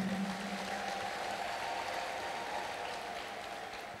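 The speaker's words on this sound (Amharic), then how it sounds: "ከዚህ በላይ እልልታ ጭብጨባ አምጡ።" Church congregation at a prophetic worship service clapping and ululating in praise, a faint, distant, continuous wash of applause with high trilling voices running through it.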